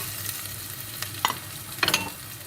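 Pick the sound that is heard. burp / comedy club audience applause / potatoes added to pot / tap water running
potatoes added to pot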